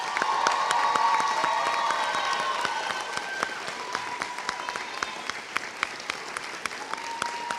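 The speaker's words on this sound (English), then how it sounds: "let's give a round of applause" Sustained applause from a sizable audience at a nursing pinning ceremony, steady dense clapping with a few scattered cheers, gradually thinning toward the end.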